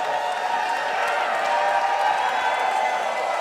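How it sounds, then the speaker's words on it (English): A Portland, Maine wrestling crowd jeers Scott Garland, a steady, dense wash of voices filling the hall throughout with no pauses. "this Portland, Maine crowd is letting him hear it"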